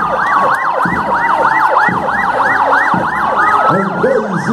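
A fire brigade engine's siren wails in rapid, repeating up-and-down sweeps, loud and close, during a military parade in São João del-Rei, with lower horn-like tones and street noise beneath it.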